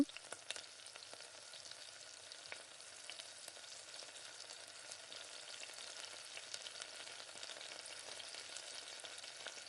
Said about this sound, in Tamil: பட்டை 2 பட்டை, 2 கிராம்பு, ஏலக்காய் இதை நல்லா பொரிஞ்சு வர்றப்ப